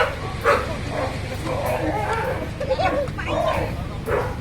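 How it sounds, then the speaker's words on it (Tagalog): Dogs yip and whimper in short bursts close by on a seashore, mixed with voices talking over a busy outdoor background. "Pasensya na kayo rin mga aso dito."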